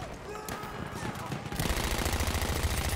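In the shooter game Battlefield 1, an Annihilator Trench machine gun opens up partway through, rattling out a fast, steady stream of loud shots after a quieter stretch of game ambience.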